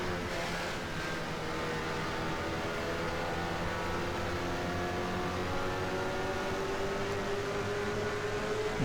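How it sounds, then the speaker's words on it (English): A Mazda MX-5 Spec Miata racing engine in the rFactor 2 simulator drones loud and steady at high revs, its pitch creeping slowly upward, with no talk over it. "it sounds enough like a Spec Miata for me not to go crazy"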